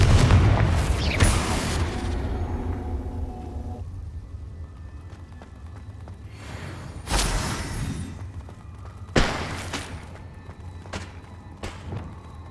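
Confringo blasting spell explosions in the Hogwarts Legacy video game on PS5: a loud booming blast at the start with a rumbling tail, then several more sharp bursts spaced a few seconds apart, with no voices.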